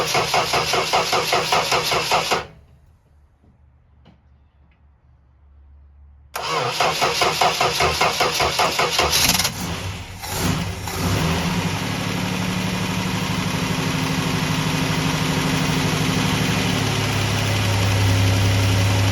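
1962 Valiant S Series engine with a carburetor rough-idle fault cranks in rapid rhythmic pulses, pauses, cranks again and fires, settling into a loud close steady idle with a low rumble that deepens near the end.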